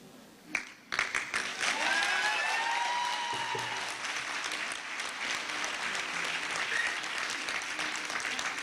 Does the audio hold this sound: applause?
yes